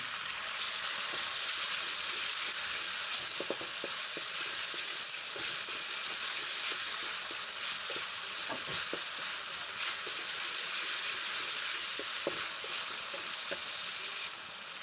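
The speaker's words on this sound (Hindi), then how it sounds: "अब हम इसमें शामिल कर देते हैं चिकन को। इसको थोड़ा सा फ्राई कर लेते हैं।" Chicken pieces frying in a pan for a chicken vegetable spaghetti, a steady close sizzle with occasional soft crackles and stirring knocks, continuous and without speech.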